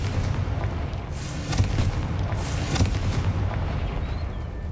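Spell explosions from the Confringo fire curse in Hogwarts Legacy, a dense low rumble with repeated booming bursts and crackling blasts, loud and continuous with no talking.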